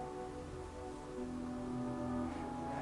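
A short sampled violin motif from an orchestral score plays at low volume, with a sustained bowed tone that swells and holds steadily under soft ambient texture for about three seconds, with no voices.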